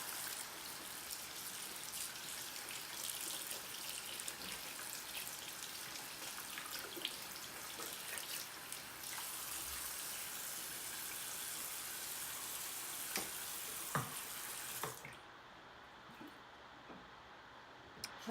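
A small makeup bowl used with beauty brushes is rinsed under a running tap, giving a steady, close hiss of flowing water that stops abruptly near the end.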